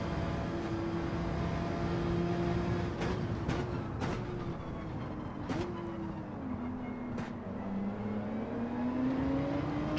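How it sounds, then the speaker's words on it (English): Race car engine at Daytona in a Gran Turismo racing game, a steady droning tone that holds, dips at gear changes, then climbs again as the car accelerates, with a few sharp clicks along the way. "Trying to get on that accelerator as early as possible through there."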